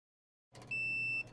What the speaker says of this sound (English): One beep indicates the unit has finished processing notes in the inlet tray.